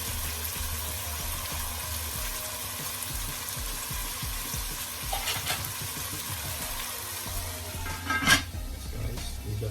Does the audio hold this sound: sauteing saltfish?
yes